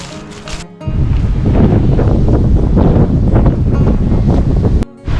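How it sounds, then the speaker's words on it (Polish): Strong wind roars through a forest near the Biała Przemsza valley, whipping the trees with a dense, continuous rush of gusts and rustling close to the microphone. It cuts off briefly near the end, then returns. "No zobaczcie jak mocno wieje. Trzepie drzewami w wszystkie strony."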